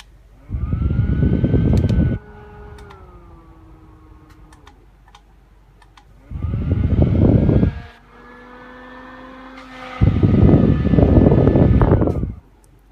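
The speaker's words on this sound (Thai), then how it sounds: "พัดลม มินิ USB เอาสีขาวมา" A small white mini USB desk fan blows straight at the microphone in three loud rushing bursts of air, each carrying a faint motor whine that slides in pitch. Between the bursts it is quieter.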